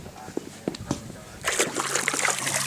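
Warm hot-spring water, fed from a hillside cave at about 20 gallons per minute, splashes and trickles steadily into a pool, growing louder midway, with people talking over it.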